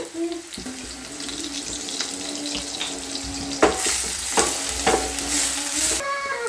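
Onions frying in a pan, a steady sizzle under clattering stirring and scraping strokes, with a brief rush like running water midway, all close by.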